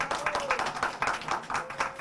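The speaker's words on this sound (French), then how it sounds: "on applaudit bien fort M. Charlus pour nous aider sous les VHU" Applause at a town meeting in Les Abymes, a quiet, moderately distant patter of hand claps in an uneven rhythm, with faint voices in the background.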